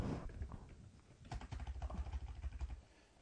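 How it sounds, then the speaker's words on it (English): Quick, uneven clatter of keys on a computer keyboard as an episode title is entered in a podcast tool, close and fairly quiet, with no speech. "you want to type in a title"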